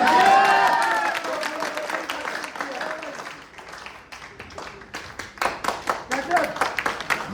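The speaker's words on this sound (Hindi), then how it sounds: "जोरदार तालियां हो जाए ममता जी के लिए" Audience at a seminar applauds for Mamta ji, a broad wash of clapping that swells loud at the start, thins through the middle and builds again toward the end, with voices mixed in.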